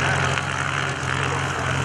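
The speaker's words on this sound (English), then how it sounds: "we got a Gulfstream going by" A Gulfstream business jet passing over a lake airshow, heard as a steady, loud engine roar that fills the clip with broad rushing noise and a low drone, with no talk.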